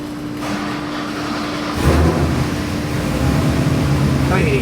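A 392 Gen 3 Hemi crate engine on a dyno, built for a 1969 Dodge Charger swap, fires up after a short lead-in and settles into a loud, steady idle rumble that carries on to the end.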